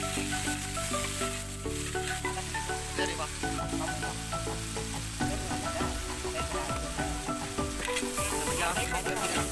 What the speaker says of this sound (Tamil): நீலவாக்கில் நறுக்கிய வெங்காயம் அனைத்தையும் போட்டு நன்றாக வதக்க வேண்டும்.